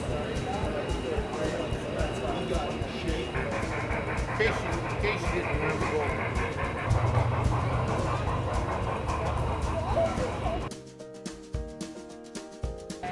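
An O gauge model train at a model train show clatters steadily along its track with a rhythmic clicking rumble, then stops abruptly; voices talk over it.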